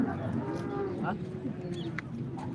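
A cow at a busy rural cattle market lets out a couple of low, drawn-out moos over crowd murmur and distant chatter, with a faint bird call in the background.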